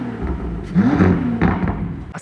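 A sports car in Dubai with twin central tailpipes revs its engine in a couple of quick rising blips over a rumbling idle, with a sharp exhaust crackle at the end, close and fairly loud.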